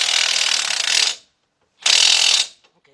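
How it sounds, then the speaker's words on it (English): A 19 mm wrench ratchets on a bolt while servicing a 2005 Chevy Trailblazer's control arm and hub, two loud, close bursts of rapid clicking separated by a brief silence, with no talk. "Okay, 19 millimeter wrench, but that's gonna be hard."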